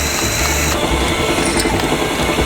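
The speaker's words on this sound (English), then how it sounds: "Here I machine a small lip." Lathe or machining tool cutting a small lip, about 1/8 inch long, on a metal welding table foot, a steady continuous grinding, ratcheting scrape held close and loud from start to finish with no talking.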